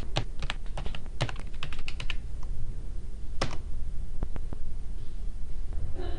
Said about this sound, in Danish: ved at skrive docs.google.com i adressefeltet i min browser.